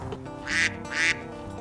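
Two quick nasal duck quacks, close and clear, a short sound effect standing alone with a faint background.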